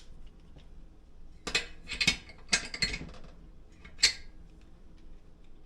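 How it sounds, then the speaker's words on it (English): Torque wrench tightening bolts to 15 foot-pounds during a top-end rebuild of an IAME KA100 kart engine: a few sharp, faint mechanical clicks in short clusters over a quiet background. "I torque these down to 15 foot-pounds"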